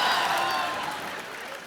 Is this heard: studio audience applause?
yes